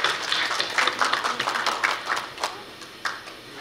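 A short burst of audience clapping welcoming an incoming student at a Korea University KU-KIST graduate school entrance ceremony, a moderate number of hands clapping briskly, then tapering off near the end.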